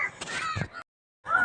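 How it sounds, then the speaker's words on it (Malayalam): Crows cawing near a village home, with two bursts of harsh, raspy calls separated by a short silence, close and fairly loud with no talk. "കാക്ക കിടന്നങ്ങ് പറന്ന് കിടന്നങ്ങ് കരയുക"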